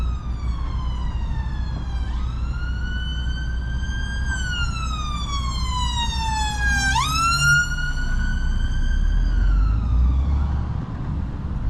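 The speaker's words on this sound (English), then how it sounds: "Just gotta wait around here for this ambulance to get past." Ambulance siren passing along a road in the Midlands, loud and close, its wailing tone sweeping up and down, briefly steady, then dropping in pitch as it goes by over a low vehicle rumble.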